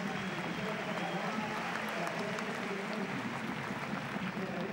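APOEL fans in a football stadium applaud a substituted player late in the match against Salamina, a broad crowd wash of clapping and noise heard beneath a commentator's continuous talk.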